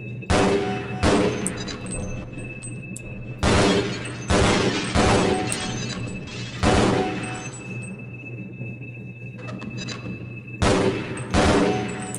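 Weapons fire on a training target range in Half-Life: Blue Shift, with repeated loud bursts of gunfire and shattering impacts over a steady hum, spread in clusters with short gaps.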